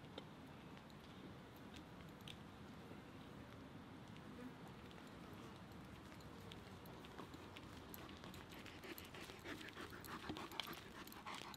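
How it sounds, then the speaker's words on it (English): A massive, wolf-sized dog pants quietly in rapid, rhythmic breaths over soft background noise, sounding faint and somewhat distant. "Look at the size of this fucking dog right here."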